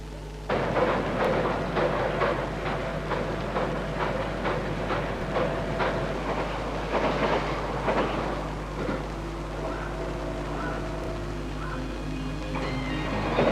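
A Hikari Shinkansen bullet train runs on rails with a steady rumble and rhythmic clatter of wheels over rail joints, heard at moderate loudness over a constant low hum.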